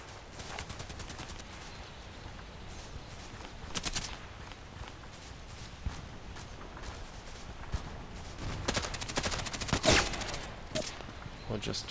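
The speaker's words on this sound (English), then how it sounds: "So we should have some from the machine gun now." Repeated bursts of rapid machine gun fire in a shooting video game crackle at a moderate distance, with clusters of shots early, near the middle and heavier toward the end.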